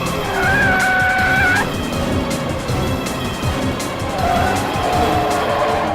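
A hijacked bus swerving in a TV drama, tires squealing in two long shrieks over a loud, rough engine rumble and clattering road noise.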